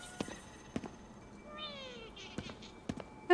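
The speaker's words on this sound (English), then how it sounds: "I can hear a singing cat." A cat in the game Ghostwire: Tokyo gives one drawn-out, sing-song meow in the middle of the clip, clear against quiet ambience, with a few sharp footstep-like taps before and after.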